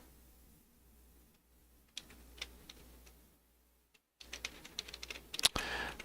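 Computer keyboard typing in a quiet room: irregular bursts of soft key clicks, with a pause midway, then a denser, louder run of keystrokes near the end.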